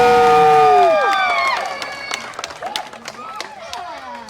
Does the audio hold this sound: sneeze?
no